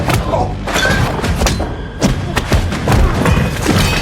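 Heavy thuds and punches land in quick, irregular succession in a fistfight between former soldiers in an action film, loud and close, with scuffling between the impacts.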